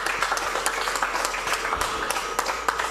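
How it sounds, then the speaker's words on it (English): Audience applause at an interview event, a dense steady patter of many hands clapping throughout, moderately loud and even. "A round of applause for him."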